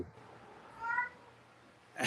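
A cat meows once in a short rising-falling call, then a sharper sound follows at the end, faint against a quiet room.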